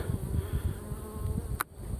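Honey bees buzz at a hive in a dense, steady drone close by, with a brief sharp knock near the end.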